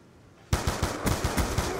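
Rapid, loud bursts of gunfire from a single-shot weapon in Call of Duty: Black Ops 2 start abruptly after a short quiet lead-in, with about a dozen sharp reports in quick succession.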